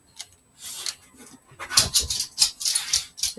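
A dog whimpers close by in a run of short, high whines that grow louder and more frequent toward the end, with no talking.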